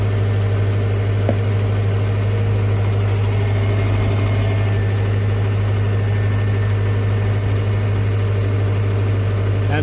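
A Subaru engine with a suspected failing alternator idles steadily nearby, a loud, constant low hum and drone without talk.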